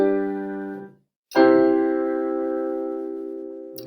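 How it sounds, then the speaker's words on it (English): Two sustained piano-like chords ring out alone, the first fading into a brief silence before a second, louder chord enters and decays slowly, part of a simple progression of four triads built from C. "If I play a very simple chord progression, it would sound like this."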